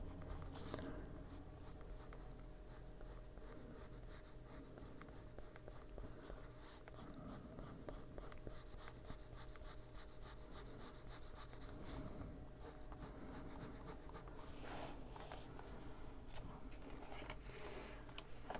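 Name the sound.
colored pencil coloring on paper with heavy pressure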